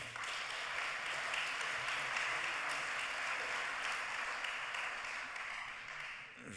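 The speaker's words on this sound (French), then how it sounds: "On peut les applaudir aussi." An audience at the closing session of a national congress applauds, a broad, even wash of clapping from a large room that stays steady for several seconds and fades slightly at the end.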